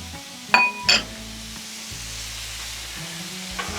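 Chicken and broccoli sizzle steadily on a Blackstone griddle, with a quiet, continuous fry under two sharp metallic clinks of a spatula near the start and a fainter scrape near the end, with no talk.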